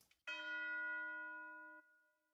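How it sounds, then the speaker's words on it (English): One bright bell strike from the Dark Souls Firelink Shrine score rings out alone, sustaining a clear pitched tone that fades gently over about two seconds. "you'll hear that this section is marked by a bell hit down here."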